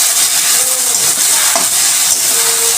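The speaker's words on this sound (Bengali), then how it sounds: "দিয়ে দিলাম জিরে বাটা, আদা বাটা, রসুন বাটা। এটাকে ভালো করে আমি কষে নেব।" Cumin, ginger and garlic paste sautéing in a pan, a steady loud sizzle and hiss with a few faint scraping stirs, no talking.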